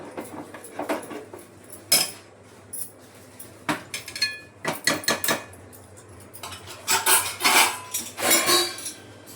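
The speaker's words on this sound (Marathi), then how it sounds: "आता याचं असं काढून घेते आणि उलथाण्याने पुन्हा चांगलं व्यवस्थित शिजवून घेते." A metal spatula scrapes and clatters in a pan as a dry besan dish (sukka pithla style) is turned and cooked, giving a run of sharp, close knocks and scrapes with short pauses between them, with no talk.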